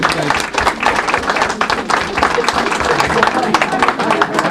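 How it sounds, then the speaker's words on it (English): A room of people at a town budget meeting applauds the mayor, with brisk, fairly close clapping running steadily through, mixed with some crowd murmur and voices. "So why don't we give the mayor a nice round of applause, and Tom."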